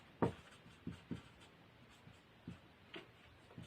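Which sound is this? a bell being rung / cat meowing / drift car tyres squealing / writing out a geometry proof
writing out a geometry proof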